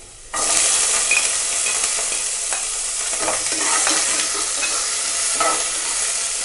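Sliced onion sizzles in hot oil with mustard seeds and urad dal in a pan for Kerala-style uppumavu, frying steadily close up with occasional scraping stirs.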